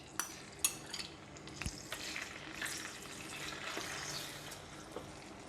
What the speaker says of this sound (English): When oil is getting hot, I'm putting in the minced pork.